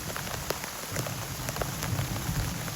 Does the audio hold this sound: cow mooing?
no